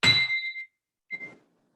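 A small handbell is rung twice to close a Rotary Club meeting, a bright ringing strike followed by a shorter, fainter second ring, close by and otherwise quiet.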